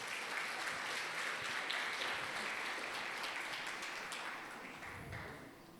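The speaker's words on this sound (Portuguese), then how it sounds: "Dê uma salva de palmas para eles." A church congregation at a missions service claps in sustained applause, a dense, moderately faint wash of hand claps that gradually thins toward the end.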